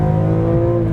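BMW M car engine at full throttle, a dense steady high-revving roar held loud and close for a brief moment.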